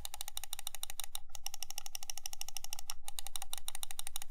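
Crisp, rapid clicking from the side buttons of an EndGame Gear XM1R wired gaming mouse, dozens of sharp, evenly spaced clicks in a steady fast rhythm, close up and alone with no talking.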